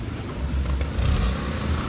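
A Hyundai i20 on its stock exhaust is revved nearby, a low, muffled engine note that swells briefly before settling back to idle.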